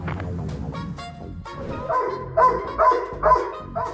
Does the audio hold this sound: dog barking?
yes